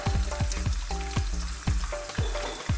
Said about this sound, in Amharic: ዱባዬ ትንሽ በዘይት ጠብሰውና ምክንያቱም የተጠበሰ አይነት ቃና እንዲኖረው ስለምፈልግ ነው።